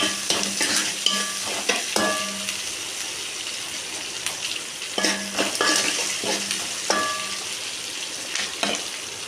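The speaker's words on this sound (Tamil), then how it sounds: "வெங்காயத்தை நல்லா வணக்கிக்கலாம்." Onions sautéing in a pan for a homemade chutney, a steady close sizzle broken by repeated scraping and stirring clatters, with a few brief voice-like tones in the background.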